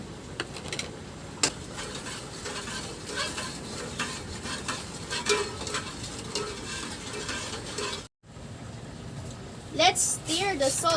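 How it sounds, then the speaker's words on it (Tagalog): A spoon swirls salt into water for salted eggs, giving soft repeated scraping and swishing strokes throughout, with a brief dropout and a person talking over it near the end. "Let's stir the salt in the water so the salt can be dissolved in the water."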